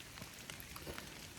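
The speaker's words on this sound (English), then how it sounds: "It's also raining and cold." Steady light rain patters on surfaces along the Appalachian Trail on a cold day, a soft continuous hiss with scattered drops, faint and close, with no voices.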